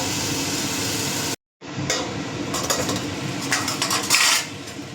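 A metal lid clanks onto a cooking pot, followed by a brief silence and then scattered metallic clinks and scraping over a steady stove hiss.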